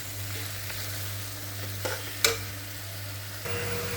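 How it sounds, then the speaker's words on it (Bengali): Vegetables fry with a steady sizzle in a pan over low background hum, broken by a few sharp scrapes and clicks of a utensil as the mixture is stirred. "এখানে সবজিটা প্রায় অনেকটাই ভাজা হয়ে গেছে"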